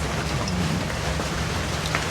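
Steady rain falls in a rural setting with dense, continuous hiss filling the short stretch, with no voices.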